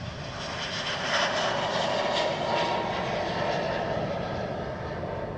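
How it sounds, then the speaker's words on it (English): Qatar Airways jet taxiing at Stansted Airport toward the cargo terminal, a steady distant engine roar and whine that swells slightly and holds throughout, heard outdoors with no talking. "It looks like the Qatari taxiing over to the cargo terminal."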